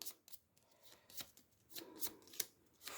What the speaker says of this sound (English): Give him a shuffle.